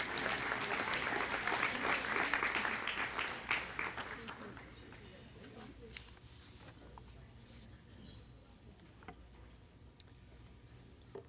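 Applause for 25-year award winners at a school district recognition banquet, a dense crowd clapping loudly for about four seconds before thinning into scattered claps and room murmur.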